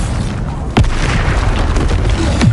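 An explosion spell goes off in the Hogwarts Legacy video game: a loud, close booming blast with a rumbling tail, then a second burst about one and a half seconds later.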